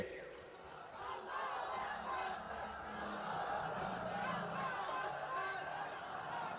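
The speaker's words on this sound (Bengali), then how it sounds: "জোরে কোন নারায়ে তাকবীর" A large crowd roars the slogan Nara-e-Takbir, a sustained mass of shouting voices at a rally that swells and holds steadily with some chatter mixed in.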